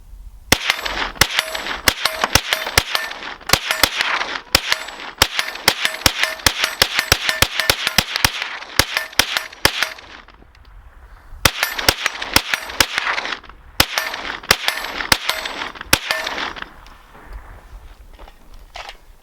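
A Kriss Vector Gen 2 9mm carbine fires in fast, sharp strings of shots with metallic clangs between bursts, outdoors at close range, pausing briefly midway before another run of rapid shots.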